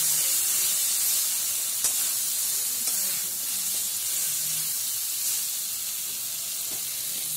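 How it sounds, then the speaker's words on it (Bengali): Chicken feet in masala sizzle steadily in a hot pan while being sautéed, a continuous close frying hiss with occasional stirring scrapes and no voices. "আমি আরও খানিকক্ষণ কষবো, যতক্ষণ না কাঁচা মশলার গন্ধটা যাচ্ছে"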